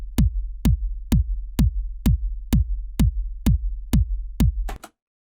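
Three kick drums made on a Yamaha Reface CS synthesizer and layered together play as ten deep, punchy thumps at an even steady pulse, each with a short decaying boom, ending on a brief noisy hit.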